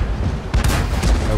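Tank gun firing in World of Tanks, a sharp loud boom followed by a second close blast within about a second, set against a low rumbling battlefield background.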